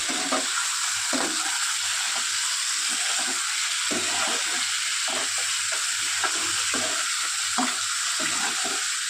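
Lote fish fries in a hot pan with a loud, constant sizzle and hiss, while a utensil scrapes and stirs with repeated soft knocks throughout.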